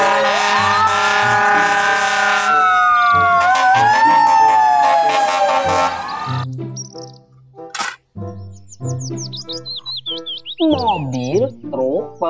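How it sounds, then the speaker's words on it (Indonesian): Loud wailing siren of a toy fire truck rising and falling for several seconds, then a burst of chirpy electronic toy beeps and tones. "Mobil truk pemadam kebakaran."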